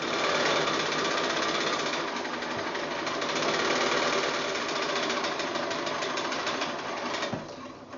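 A sewing machine joins quilt block rows together with steady, rapid stitching. It clatters close by at a constant, loud pace, then slows and stops near the end.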